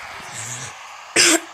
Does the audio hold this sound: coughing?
yes